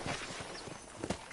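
Horse hooves clip-clop on the ground in the Red Dead Redemption video game, a quick run of soft, closely spaced thuds at a walking pace, fairly faint beneath a steady ambient wash.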